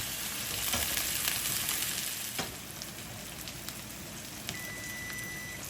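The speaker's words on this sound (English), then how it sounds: "I sear the steaks the way I always do. 2 minutes on each side, then 1 minute per side to finish." Ribeye steaks marinated in balsamic vinegar sear in a pan with a dense, continuous sizzle like steady rain, heard close and even throughout, with a few faint crackles and pops and no talking.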